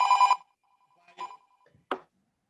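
A mobile phone ringtone sounds in short bursts, a loud first chirp followed by two fainter pulses, in an otherwise quiet room.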